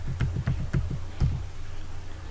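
Keystrokes on a computer keyboard typing a short command, a quick burst of about eight clicks over the first second and a half, then quiet room tone.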